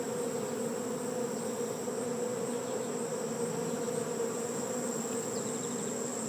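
A swarm of honey bees flying around a barn, a steady dense hum that holds at an even level throughout with no voices.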